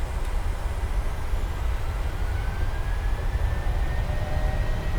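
The engines of a Boeing 737-900ER at takeoff thrust in a flight simulator, heard from inside the aircraft as a steady, loud roar with a deep rumble and faint rising whine, with no pauses and no voices.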